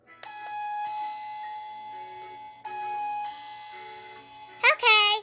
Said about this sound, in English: now time for me to ring the doorbell.